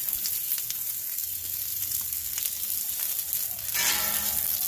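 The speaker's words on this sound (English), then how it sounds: "we're going to grill up these onions. The first thing you want to do is get a little oil on there." Onions and jalapeños frying in oil on a grill, a steady close crackling sizzle that swells slightly louder near the end.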